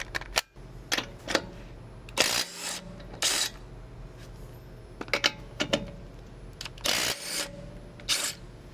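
A DeWalt DCF922 cordless impact wrench loosens car wheel nuts in several short, harsh rattling bursts between quieter clicks and handling noises. The bursts are close and loud, and no one speaks.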